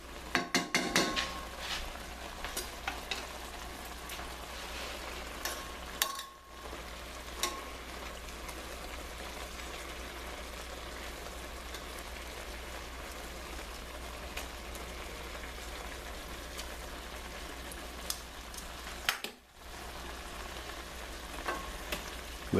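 Shrimp and spinach fry in a skillet over a high flame, a continuous low sizzle and crackle with occasional clinks of a utensil against the pan and a couple of brief dips in the sound.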